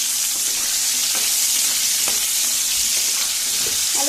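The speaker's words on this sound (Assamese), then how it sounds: "ভালদৰে মিলাই লম এইখিনি।" Pork masala with turmeric is stirred and fried in a pan, giving a steady, loud sizzle with scraping strokes of the spoon throughout and no talking.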